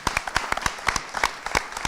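An audience claps for a panel of speakers at a live event, a loose patter of sharp, close hand claps of moderate loudness with no talking over it.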